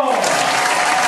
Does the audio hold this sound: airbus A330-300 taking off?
no